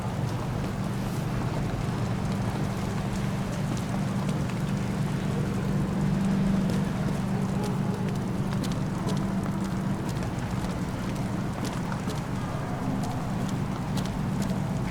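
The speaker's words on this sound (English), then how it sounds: "Is it always raining down here?" Steady rain in the video game Nobody Wants To Die, a continuous dense hiss with a low rumbling bed, constant and fairly loud throughout with no talk.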